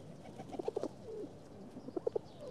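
Pigeons or doves cooing in a short series of soft, rounded calls, a burst of three or four coos, a pause with one longer note, then another cluster, fairly close against a light background hiss.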